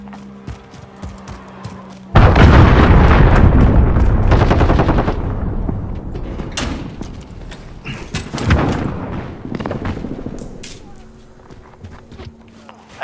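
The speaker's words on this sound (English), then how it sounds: "Allied cruise missile launched." A cruise missile strike in a multiplayer shooter video game: a sudden loud blast, then a long rumbling roll of explosions and gunfire that fades, with game voice callouts heard around it.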